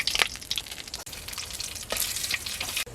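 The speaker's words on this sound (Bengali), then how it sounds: "কালো জিরে ফোড়ন দিয়ে দিলাম।" Black cumin seeds, bay leaves and cinnamon sizzle and crackle in hot oil in a heated wok, a steady close frying hiss with sharp pops, no voices.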